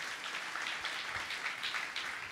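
A congregation at a gospel meeting claps in praise, steady applause from a crowd heard at a distance, soft and even throughout.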